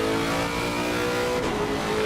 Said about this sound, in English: the high RPM V8 of the Lexus RCF GT3